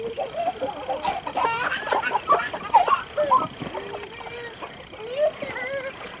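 Broiler chickens, adults and chicks, clucking steadily in a pen, a busy overlapping chorus of close clucks and chirps with a person talking over them.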